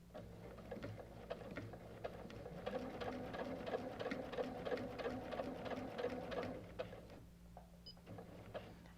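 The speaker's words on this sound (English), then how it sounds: "I'm going to be sewing right up to that seam line, and then we'll be stitching in the ditch down across it" A sewing machine stitches in the ditch across a quilt seam, running in a fast, even chatter of needle strokes for several seconds before slowing and stopping near the end.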